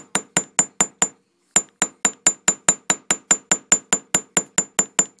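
A hammer textures a metal earring with a fast, regular run of sharp, ringing taps close by. A brief pause comes about a second in, then steady striking resumes, with no talking.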